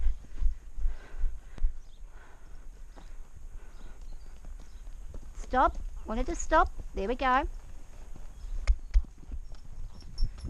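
Hoofbeats of an older mare trotting on firm ground, steady and fairly close, while a rider talks and gives commands between the footfalls.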